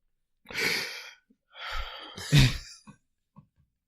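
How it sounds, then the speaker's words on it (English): A close, breathy yawn, then a second longer drawn-out exhale that ends in a low voiced groan, with quiet breaths after. "You just yawned."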